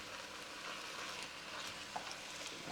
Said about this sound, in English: So we're going to add the meat back in now. Give that a good mix around.